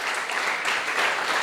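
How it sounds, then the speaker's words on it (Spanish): Applause from a church congregation during a Spanish-language sermon, a steady wash of many hands clapping at close range for just over a second with no pause. "Celébrelo, dele un fuerte aplauso al Padre."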